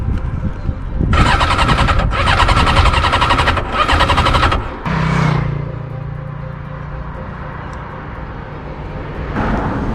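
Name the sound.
motorcycle engine starting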